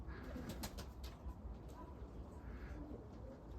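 A small flock of pigeons flying about outdoors, with faint wing flaps and soft cooing heard distantly in a quiet, noisy background.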